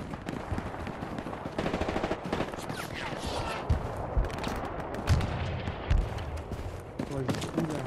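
Weapons fire in the World War II shooter Hell Let Loose, set in Mortain, Normandy: rapid, overlapping bursts of automatic and rifle shots crackle continuously with distant battle noise.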